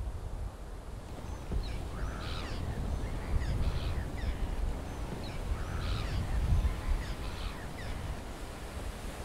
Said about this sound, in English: Birds mean land, right?